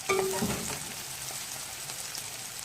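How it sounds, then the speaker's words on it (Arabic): Onion frying in a pan until it browns and caramelizes, for rice with giblets. A close, steady crackling sizzle runs throughout, with a few light clinks near the start. "أنا عايزة البصلاية تتحمر كويس، تتكرمل كده"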